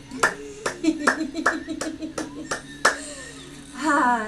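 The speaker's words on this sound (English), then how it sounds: "when we're happy and you know it, clap your hands" Group hand clapping along with a children's action song during an online learning event, about eight claps in a steady rhythm under singing, fairly close and moderately loud.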